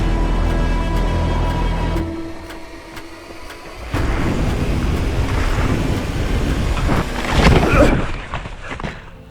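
Steady rain hisses outdoors while a low rumble of thunder rolls in and swells, a sustained noisy wash that grows louder near the end before thinning out.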